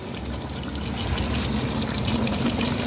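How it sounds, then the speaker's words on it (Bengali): Duck curry with mashed potato boiling in a pot, cooked village-style: a steady, close, wet bubbling and gurgling that continues throughout, with no voices. "এই যে দেখেন এটা সুন্দর বলক আসছে সুন্দর করে"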